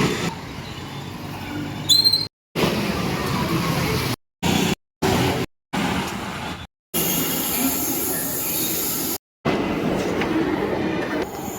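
Metro train at MGBS metro station in Hyderabad, broadband rumble and rolling noise with wheel squeal and a brief high whine, steady and fairly loud, broken by several short gaps.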